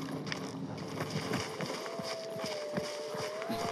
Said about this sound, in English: I heard the horse in front